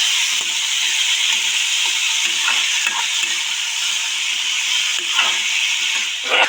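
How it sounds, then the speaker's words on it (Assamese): Drumstick and potato pieces frying in a pan, loud sustained sizzling close up with repeated stirring scrapes and clatters and no speech. "কাটি থোৱা আলুখিনিও লগতে ভাজি দিলে ধুনীয়াকৈ সিজি যাব, সেইকাৰণে আলুখিনিও লগতে এয়া দি দিছোঁ আৰু এতিয়া ধুনীয়াকৈ এইখিনি ভাজি ল'ম অকণমান"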